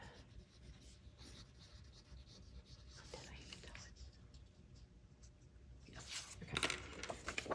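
A pen scratches softly and continuously as a name is written on a piece of paper before a Gelli Plate stencil print. The writing is quiet and close, with a few louder strokes toward the end.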